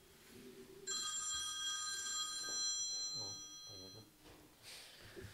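A telephone rings indoors during a business talk, an electronic ringing tone that starts abruptly and keeps going for several seconds, heard clearly over a man's speech and a few laughs.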